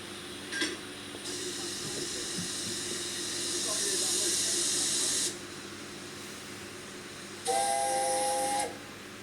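The whistle of the steam locomotive Richard III on a restored Midlands railway blows in a long hissing blast, then after a pause sounds again with a clearer tonal shriek, close by.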